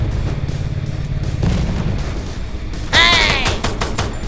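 A sudden explosion in the Free Fire battle royale game bursts out loudly, crackling and fading over about a second, following earlier in-game gunfire and movement noise.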